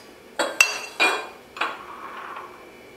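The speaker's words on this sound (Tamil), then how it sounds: "நல்லா அந்த சீனி கரையிற வரையும் கலக்கிக்கணும்." A spoon clinks against a glass while stirring homemade citron juice with sugar, a few sharp metallic taps and scrapes in quick succession, close and fairly quiet.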